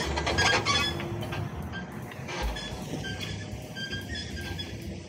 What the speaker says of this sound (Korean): 버스가 지나가네요. 전기차 같은데요.